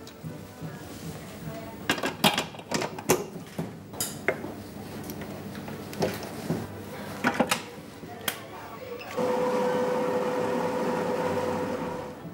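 Clinks of dishes and utensils come first, then an electric mixer starts up near the end, beating cake batter with a steady motor hum and whir that continues to the close.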